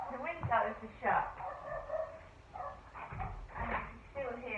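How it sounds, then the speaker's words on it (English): A dog barks outside, heard through shut windows as several faint, muffled yaps and barks in an irregular rhythm while a person talks over them. "And you can still hear that dog barking."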